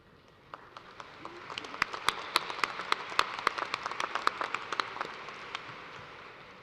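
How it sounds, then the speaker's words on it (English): Applause for graduating students at a college ceremony, starting with a few claps and swelling into many hands together, moderately distant in a large room, then thinning out toward the end. "Please join me in applause to acknowledge the scholastic achievement of all of these students."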